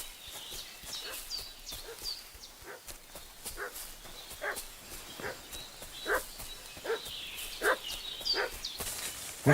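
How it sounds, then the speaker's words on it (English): Dog barking in the medieval game Kingdom Come: Deliverance 2, a run of repeated sharp barks at moderate distance mixed with horse hoof clops and soft outdoor ambience, no talk. "What's that dog making such a fuss about?"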